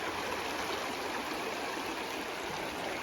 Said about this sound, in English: A beautiful half day out here on the river